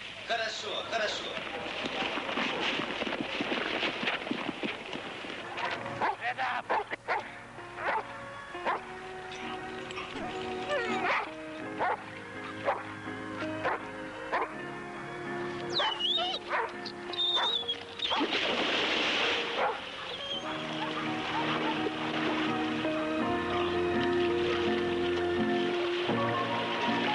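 A dog barks repeatedly in short, sharp bursts while someone talks over it, with a washing, surf-like rush in the background.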